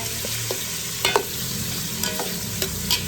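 Meat frying in a pan without a wok, a steady broadband sizzle with a few clattering stirs and utensil knocks, close and alone with no voices.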